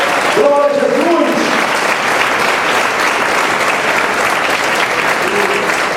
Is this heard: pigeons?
no